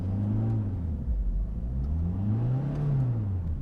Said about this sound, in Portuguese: está com um pouco de barro e você está patinando e já está no limite dos pneus